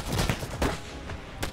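Units opening fire in the Iron Harvest diesel-punk strategy game, a quick volley of several sharp gunshots in close succession followed by a final crack, loud and close.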